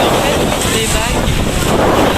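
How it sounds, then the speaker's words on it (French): Ocean waves on Réunion heard as a steady, loud roar of surf and rushing water, mixed with heavy wind buffeting the microphone, with no clear speech. "les vagues"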